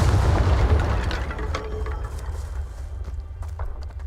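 In the Hogwarts Legacy video game, a Confringo spell explodes as a heavy, rumbling blast with a deep booming low end that slowly decays over a few seconds amid faint crackling debris.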